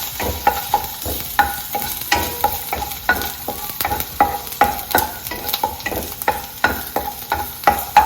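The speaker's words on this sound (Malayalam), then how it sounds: "സോ അതുകൊണ്ട് ഞാൻ ലോ ഫ്ലെയിമിൽ ഇട്ട് ഒന്ന് ചെറുതായിട്ടൊന്ന് മൂപ്പിച്ചെടുക്കും." Garlic sautéing in ghee over a low flame, a steady soft sizzle broken by regular scraping and stirring knocks of a spoon against the pan, close up with no talking.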